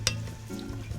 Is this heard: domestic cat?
no